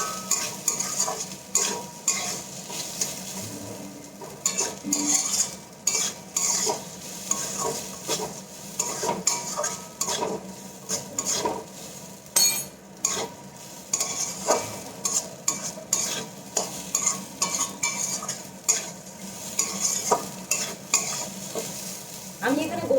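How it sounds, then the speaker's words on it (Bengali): Pulao rice made with Gobindobhog grain being stirred in a pan after salt is added, with repeated scraping spoon strokes against metal over a soft sizzle, steady and close throughout. "আবার ভালো করে নাড়িয়ে নেব।"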